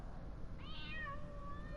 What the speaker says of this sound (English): Oh, it's just a kitty, eh?